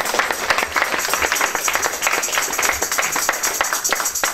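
A church congregation claps and applauds during a French-language sermon, a dense steady patter of many hands filling the room close up, with no voices over it.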